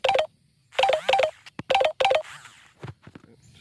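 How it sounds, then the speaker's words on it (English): A mobile phone rings close by with a bright electronic ringtone, its short tonal bursts repeating in a quick pattern and then trailing off. "Sorry, my phone's ringing while I'm trying to video."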